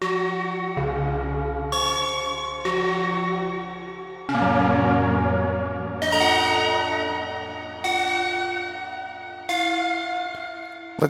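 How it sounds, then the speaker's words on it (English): Synthesized FM bell tones from an iPad synth app ring out one after another, each bright chime sustaining and overlapping into a shimmering, echoing wash. "We've got some bells in here."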